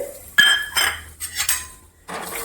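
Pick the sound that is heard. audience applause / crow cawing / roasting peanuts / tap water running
roasting peanuts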